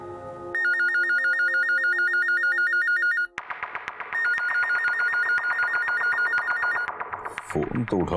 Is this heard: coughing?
no